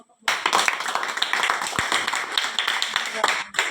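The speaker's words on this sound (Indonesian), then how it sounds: "Tepuk tangan untuk kelompok 2." A classroom of students clapping for a group after its presentation, starting abruptly and continuing as brisk, close, uneven claps with scattered voices mixed in before cutting off.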